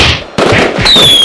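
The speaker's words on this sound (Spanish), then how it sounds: "Una mascleta es muchos petardos a la vez." Firecrackers from a daytime mascletà at the Valencia Fallas, loud cracking blasts in quick succession, a broad burst at the start and another after a brief gap, with a thin whistling tone trailing over the final bangs.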